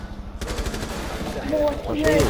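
Rapid automatic gunfire rattles out in dense bursts during a round of Rainbow Six Siege, loud and close, with a voice speaking briefly over the shooting.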